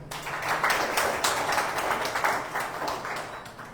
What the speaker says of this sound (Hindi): आप सभी के लिए जोरदार ताली।